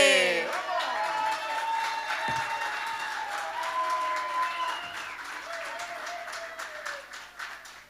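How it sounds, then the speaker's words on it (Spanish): Steady applause from a crowd at a music festival runs throughout, with tonal sounds from music or feedback over it, slowly fading toward the end. "Fuerte el aplauso para el dúo"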